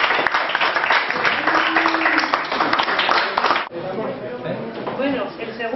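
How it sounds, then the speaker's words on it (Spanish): An audience at a photo contest prize-giving in Spain claps for a winner, a loud burst of close, crisp hand-clapping over voices that cuts off abruptly, leaving people talking. "Y un aplauso para Ramón"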